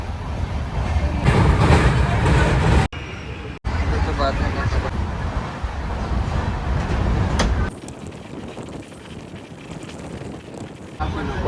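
A moving passenger train on a long journey from Kolhapur rumbles with a loud, steady roar and rush of wind, cutting abruptly in level a few times as if passing between sections.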